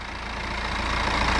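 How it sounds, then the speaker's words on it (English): A BMW 420d Gran Coupe xDrive M Sport from 2016, its 2-litre turbo diesel four-cylinder engine idling close by: a steady, dense diesel drone with a slight rising swell, alone without voices. "Has a 2-litre turbo diesel 4-cylinder engine"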